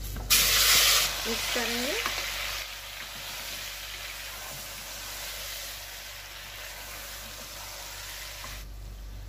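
Chicken goes into frying korma masala with a bright, loud sizzle at the start that settles into a softer, steady frying hiss. A voice speaks briefly over it.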